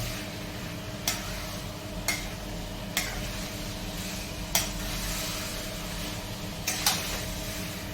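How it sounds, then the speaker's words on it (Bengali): Spiced potatoes fry in a pan for a Bengali aloo curry, giving a steady low sizzle broken by sharp scraping taps of the spatula roughly once a second. "আলুর সাথে ভালো করে মশলাটাকে একটু ভেজে নিতে হবে"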